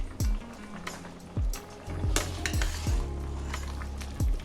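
Salt being stirred into a pan of cooked green beans and potatoes: a spoon scraping and clinking against the pot in several separate strokes over a soft background sizzle, fairly close.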